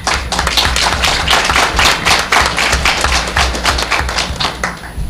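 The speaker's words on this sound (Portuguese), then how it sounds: "eu não exagerarei se pedir uma salva de palmas para eles" A lecture audience gives a round of applause, with close, distinct individual hand claps in a fairly dense, uneven rhythm that holds steady throughout.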